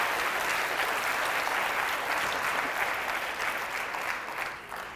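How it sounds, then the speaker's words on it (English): An audience at a book award ceremony claps after readers finish, a full, even wash of applause that holds steady and then tapers slightly toward the end. "Round of applause"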